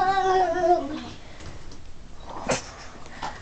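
A cat gives one clear, drawn-out meow close by, followed by quiet household rustling and a short knock.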